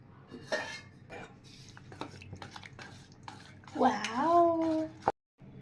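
Cocoa powder and milk stirred together in a bowl for homemade chocolate ganache: soft clinking scrapes of a spoon against the dish, close and intermittent, joined by a brief rising tonal squeal near the end.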